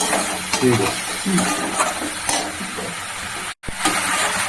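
Spices fry in a pan with a loud, dense sizzle and repeated stirring scrapes. The sound cuts out abruptly for a moment near the end, then the frying resumes.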